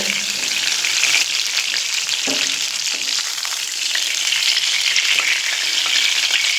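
Cut potatoes frying in the same oil just used for pointed gourd, a steady loud sizzle with crackling bubbles throughout, occasional stirring clinks, no voices.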